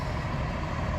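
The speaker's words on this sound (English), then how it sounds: "Damn bus." A bus passes close by, its engine a loud, continuous low rumble with the hiss of air brakes, and no voices over it.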